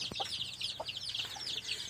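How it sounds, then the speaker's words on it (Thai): A hen with her nine chicks, backyard chickens, making soft near clucks under a dense, continuous chorus of high peeping from the chicks. "นี่นะครับ ไก่ผมนะฮะ"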